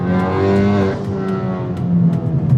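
A Honda Civic Type R FK8 engine revs hard and steadily, a loud, rich growl with rising and falling pitch, no voices.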